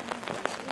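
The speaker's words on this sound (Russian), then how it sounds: "А дождь продолжается." Rain keeps falling outdoors at the temple of Venus rotunda in the park of Linderhof Palace, a soft, even patter with a few faint splashes, heard briefly and quietly with no voices.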